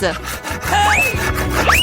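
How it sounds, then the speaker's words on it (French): Short bursts of rough back-and-forth sawing through food, close and loud, with rising tonal squeaks as the blade rubs through it. "Je pense que nous allons avoir besoin d'une scie"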